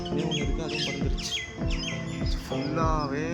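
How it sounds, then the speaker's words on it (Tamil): Parrots calling in the trees at Cubbon Park, a busy chorus of shrill, repeated chirps and squawks from several birds, fairly close and continuous, with no talk. "ஃபுல்லாகவே பேரட் தான்."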